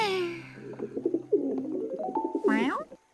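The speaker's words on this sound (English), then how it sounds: "What was that? Oh, silly me. It's only an owl." An owl hooting at night in a children's cartoon set in a country village: a few soft, rounded calls that blend with other tonal sounds, moderately close.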